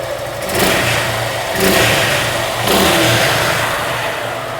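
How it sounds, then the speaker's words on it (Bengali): A Suzuki Gixxer Naked FI ABS V3 motorcycle engine runs loudly nearby, rising in three revving swells over a steady idle. "আর আপনারা ইঞ্জিন সাউন্ডটা শুনতে পাচ্ছেন আশা করি।"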